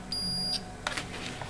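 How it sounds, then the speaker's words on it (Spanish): A digital multimeter set to diode range sounds its continuity beep while probing a washing machine pressure switch: one sustained high electronic tone of about half a second, then a shorter faint chirp and clicks, close and clear. "Ponemos el polímetro en la escala de medida de diodos para que nos dé pitido"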